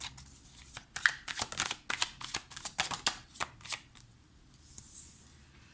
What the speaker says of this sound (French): on va prendre 3 cartes conseils